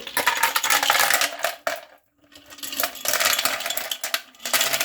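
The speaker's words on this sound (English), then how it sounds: "Then after that, you're going to put your ice" Ice cubes clatter and rattle continuously as they are dropped in, with a brief pause midway before another noisy burst of clinking.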